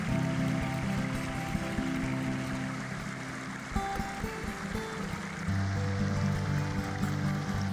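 A mountain stream cascades down through upland rainforest in a steady, moderately loud rushing wash, heard alone.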